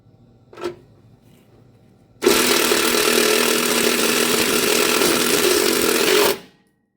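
A power drill bores a bolt hole for a Toyota Sequoia transfer case skid plate, a short blip followed by four seconds of loud, steady, close whining and grinding that stops abruptly.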